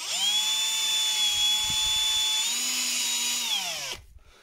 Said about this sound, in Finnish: Eli ei muuta kuin varovasti poraten.